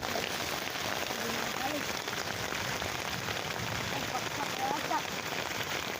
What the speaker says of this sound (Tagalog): Turin nyo kung gaano kalakas ang ulan